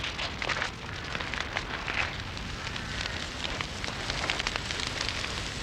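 Dense crackling and hissing of a bushfire racing through tinder-dry scrub in the Kimberley during the hot pre-monsoon build-up, a steady close roar of popping and snapping with no voices.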